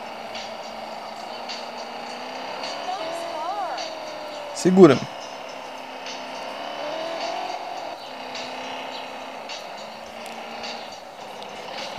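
A taxi engine in sport mode drones steadily in the video game Taxi Sim 2020, a sustained mid-pitched hum with a brief sharp burst near the middle, while someone talks over it.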